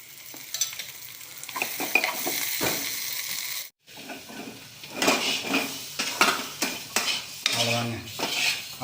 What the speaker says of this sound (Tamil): ஃப்ரை பண்ணுறாங்க மூணு முட்டை மூணு பேருக்கும்